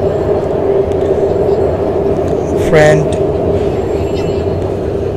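A Shenzhen subway train runs underground with a steady, loud rumbling roar and a faint brief squeal, heard from inside the carriage while someone talks over it.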